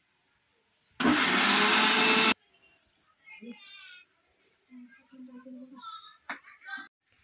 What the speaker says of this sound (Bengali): এই কারি পাতা আর আদাটা আমি এই বাদামের সঙ্গে পেস্ট করে নেব